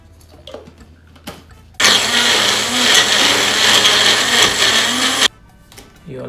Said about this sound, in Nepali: सबभन्दा पहिला हामी लसुन अदुवालाई महिन गरेर पिस्न गइरहेका छौं ग्राइन्डरमा